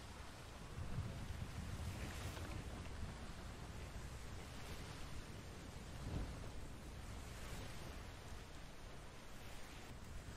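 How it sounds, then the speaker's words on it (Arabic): Stormy weather at sea in the game Atlas: a steady hiss of rain and wind, broken by low thunder rumbles near the start and the middle, with no talking. "والآن عاصفة قوية، والله يستر."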